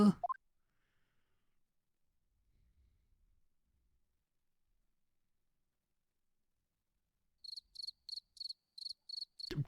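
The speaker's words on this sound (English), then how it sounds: "Crickets?" Crickets chirp in The Great Ace Attorney 2, a short burst of eight rapid, evenly spaced high chirps near the end, following a long near-silent stretch.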